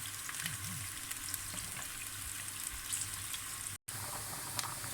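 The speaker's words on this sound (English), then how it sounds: "the onion has been cooking for about 3 minutes or so" Chopped onion fries in oil in a pan while making dhal gosht, giving a steady, close crackling sizzle with dense fine pops throughout and one brief silent gap near the end; no voices are heard.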